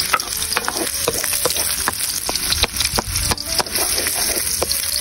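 Garlic and onion sautéing in a hot pan for a mackerel and saba dish, a dense steady sizzle dotted with crackles and spatula scrapes, close-up with no voices.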